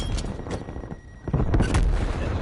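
A grenade blast in a console shooter game: a heavy booming explosion with a rumbling tail, followed by further loud crackling bursts, close and dominant with no talk.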